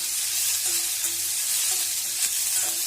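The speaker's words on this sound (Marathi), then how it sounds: "टोमॅटो असे पूर्ण शिजेपर्यंत परतून घ्यायचे" Tomatoes sautéing in a pan for misal pav, a constant close sizzle with occasional stirring scrapes and faint tonal clinks, no speech.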